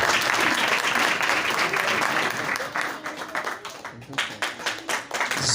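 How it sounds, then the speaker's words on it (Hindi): A church congregation at a Sunday service claps loudly, a dense steady burst of applause that thins into scattered, uneven claps toward the end. "जोरदार तालियां खुदावंद के लिए बजा दीजिए"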